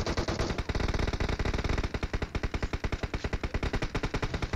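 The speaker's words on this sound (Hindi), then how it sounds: "उन्होंने फायरिंग करना स्टार्ट कर दी।" Sustained rapid automatic gunfire in PUBG Mobile, a loud close burst of evenly spaced shots that briefly pauses then resumes at a steady rattling cadence, with no talk over it.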